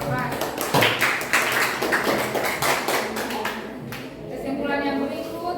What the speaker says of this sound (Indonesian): Tepuk tangan dulu buat Ketoprak.